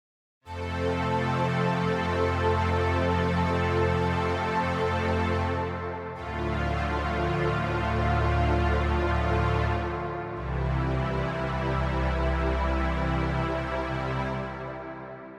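A Logic Pro X synth pad with its EQ removed plays full chords with a deep, heavy low end, three long sustained blocks with smooth changes and reverb tails, no speech.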